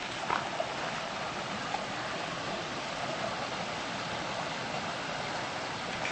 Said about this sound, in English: And I've reached the creek now.